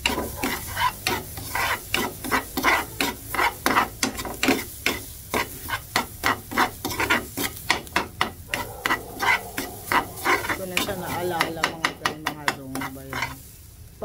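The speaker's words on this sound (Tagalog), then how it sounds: "Para ma-fry, ma-stir fry lang siya ng konti." Miso being stir-fried in a pan for sinigang sa miso with grouper, rhythmic scraping strokes of a utensil across the pan with a soft sizzle underneath, steady and close throughout.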